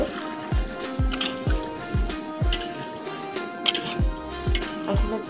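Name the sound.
water being added to chicken cooking in a pan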